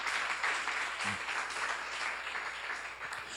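A congregation at a church seminar claps together in a short, steady burst of applause, moderately loud and fairly uniform, with no talking over it.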